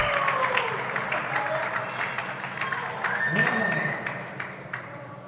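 A crowd at a professional squash final at the Namibian Open applauds after a nick shot, a short burst of clapping that swells and tapers off while a commentator's voice runs over it.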